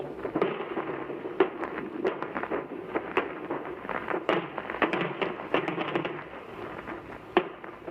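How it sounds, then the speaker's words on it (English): Scattered gunshots crack at irregular intervals over a rough, crackling archival wartime recording amid a barrage, some sharper and closer, others muffled and distant, with no steady rhythm. "There are multiple gunshots going on."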